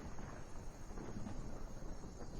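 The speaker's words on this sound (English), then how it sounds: "thunder behind me" Distant thunder rumbles low and continuously through the video game Skyrim, a deep, rolling growl with slight swells in loudness and no voices over it.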